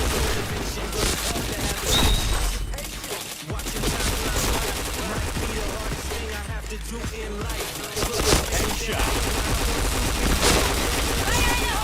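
Gunfire in the PointBlank shooter game: dense, rapid bursts of shots and clattering impacts run almost continuously, loud and close, with brief lulls, over game ambience and occasional talk.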